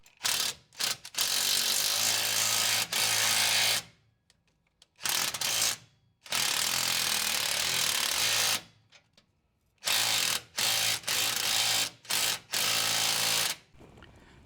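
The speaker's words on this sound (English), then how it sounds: "our other 19 millimeter nut, and we'll torque this down" A ratchet torques down a 19 millimeter nut on a steering stabilizer for an 80 Series Land Cruiser, sounding as close, rapid clicking bursts of several seconds each, broken by short pauses.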